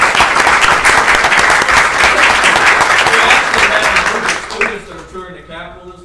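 An audience applauding at a state board of education meeting, loud dense clapping that fades after about four seconds into a voice speaking.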